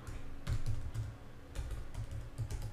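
Keystrokes on a computer keyboard as a URL is typed, quick clustered clicks in short bursts with brief pauses, close and fairly quiet, with no talking.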